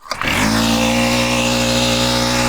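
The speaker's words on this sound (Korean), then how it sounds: "시동을 이 바깥에서 먼저 이렇게 걸어 주시고" A Toyogane PT511 floating boat water pump's small engine starts out of the water and jumps straight into a loud, steady high rev, a close, sustained buzzing drone.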